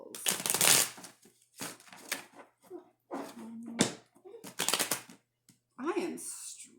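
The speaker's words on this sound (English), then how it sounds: "Let's do 3 more shuffles." Tarot cards are shuffled in several quick riffling bursts separated by short pauses, close and fairly quiet.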